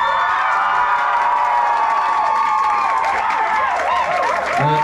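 A live crowd at a set in a club applauds and cheers a musician in a dense, steady wash of clapping and whoops that holds for several seconds.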